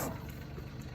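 A heavy rental vibrating plate compactor with a brand new engine runs steadily close by, a continuous low mechanical rumble and buzz with no break.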